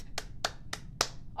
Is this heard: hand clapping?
yes